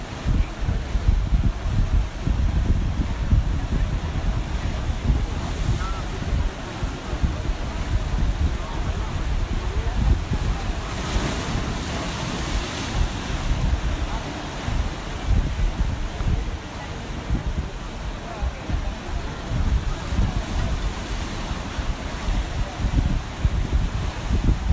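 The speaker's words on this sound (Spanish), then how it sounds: "Te dejo disfrutando del agua y del mar y del sonido de las olas." Sea waves break on the shore at Puerto de la Cruz, a steady, full roar of surf with gusty wind across the microphone and no voices.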